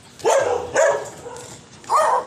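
Dogs in a street bark in three short, loud barks, spaced irregularly over about two seconds and close by.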